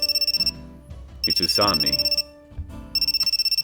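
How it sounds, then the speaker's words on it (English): A cell phone ringtone in a visual novel game rings in rapid, evenly pulsed electronic bursts, stopping while a voice speaks briefly and then starting again, loud and close. "Oh, my cell phone is ringing."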